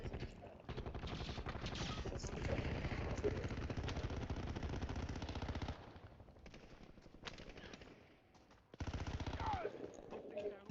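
Video game gunfire rattles in long, rapid automatic bursts, with a gap and then a final burst, under players' voices.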